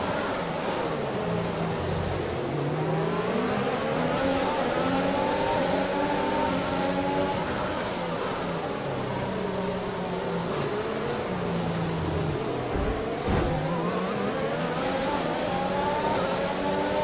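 A race car engine on the Baku street circuit in Azerbaijan roars steadily and close, its pitch rising and falling through gear changes as it accelerates and revs for the whole stretch.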